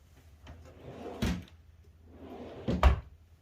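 Deep 24-inch wooden drawers under a drill press in a home workshop slide open and shut twice, each a soft rolling glide ending in a close, solid knock.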